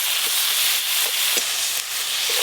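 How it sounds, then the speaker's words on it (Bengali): Mustard paste, chopped tomato, chili powder, turmeric and salt sauté together in a hot pan, giving a steady, close sizzle broken by a few soft knocks of stirring. "এবার লঙ্কা গুঁড়ো আর সর্ষে বাটা দিয়ে ভালো করে কষিয়ে নেব।"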